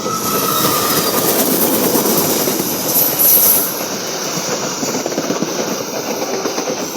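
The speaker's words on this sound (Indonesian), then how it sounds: "Kereta api Pandan." The Pandanwangi passenger train, hauled by a CC 203 diesel locomotive, rumbles past nearby with a loud, steady roar of wheels and engine and a brief high squeal partway through, with no voices over it.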